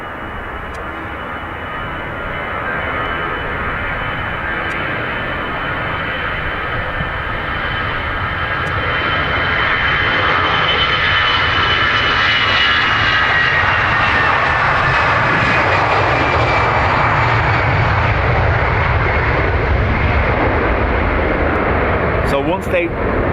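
A jet airliner takes off at Dublin Airport with a loud, steady engine roar that swells over about twenty seconds as it passes close by, with speech audible beneath it.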